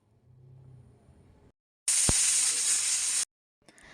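A pressure cooker cooking vegetable rice lets out a single loud, steady steam whistle that hisses for over a second and then stops abruptly, with quiet kitchen sounds before and after.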